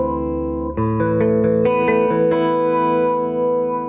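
Chords played through the Bleass Phaser effect plugin on its metal box preset, a sustained, swirling processed tone with a few stepped changes, loud and alone with no talk.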